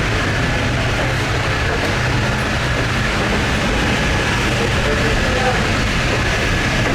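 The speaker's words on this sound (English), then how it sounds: "back into the tram." Gateway Arch tram capsule in St. Louis running inside the arch, a steady close rumble and rattling mechanical hum with faint clicking, continuous throughout with a voice murmuring faintly beneath.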